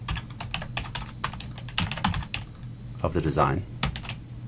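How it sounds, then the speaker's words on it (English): Quick bursts of clicking keystrokes on a computer keyboard while a scenario name is entered in EasyPower arc flash label design software, close and steady, with a person speaking briefly over it. "So I type in scenario name for a description, add a variable, select the variable, and make it be scenario name here."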